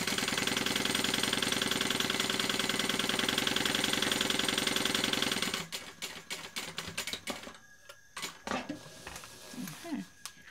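Sewing machine stitching the bottom seam of a BeHip 2.0 bag, a steady rapid mechanical chatter for about five seconds that stops abruptly, then light clicks and handling noises of fabric and clips.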